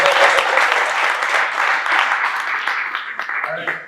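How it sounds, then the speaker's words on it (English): Audience at a tech leadership panel event gives a round of applause for the panelists, a dense, sustained burst of many hands clapping nearby that tapers slightly toward the end. "kind of a round of applause for our panelists real quick"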